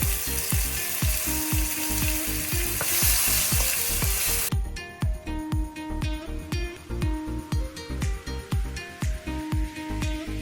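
Onion, garlic and ginger paste sizzles loudly in a hot pan for a poppy-seed chicken curry, with steady frying hiss at first, then regular rhythmic scraping strokes of a spoon stirring the paste.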